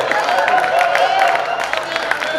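An audience at a Hindi comic poetry recital claps together, a loud steady patter of many hands with crowd murmur mixed in.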